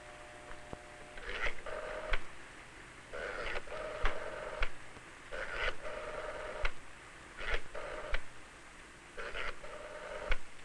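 Touch-tone telephone dialing, with a series of short, moderately loud beep tones grouped in a steady rhythm, as if a full number is being keyed in on an older phone.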